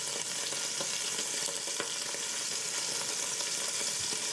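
Meat sizzles steadily in a hot pan, a bright, continuous crackling hiss with small pops, close and fairly quiet.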